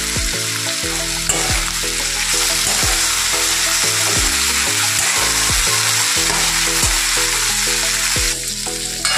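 Potato and bitter gourd sizzle steadily in a pan of hot oil, a loud continuous crackling fry close by, with occasional scraping stirs breaking through the hiss; no voices.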